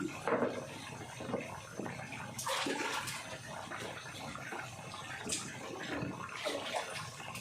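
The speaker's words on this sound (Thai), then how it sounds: "ล้างอีกสักน้ำพี่น้องให้มันสะอาด ล้างอีกสักน้ำก่อน" Cabbage and green onion being washed in a basin of water, with continuous splashing, sloshing and rinsing noises at moderate volume throughout.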